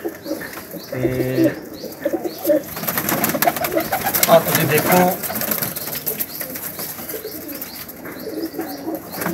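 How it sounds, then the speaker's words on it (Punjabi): Pigeons of a city breed resembling Pakistani pigeons coo repeatedly in low, throaty phrases close by, with other bird calls around and someone talking over them. "ਵੇਖਣ ਨੂੰ ਸ਼ਹਿਰੀ ਕਬੂਤਰ ਜਿਹਨੂੰ ਆਪਾਂ ਪਾਕਿਸਤਾਨੀ ਕਬੂਤਰ ਕਹਿ ਦਿੰਦੇ ਹਾਂ"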